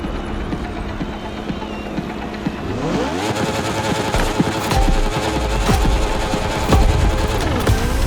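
A racing motorcycle engine in Motorfest, droning steadily and then revving up through rising gear shifts, loud and close throughout with no talk.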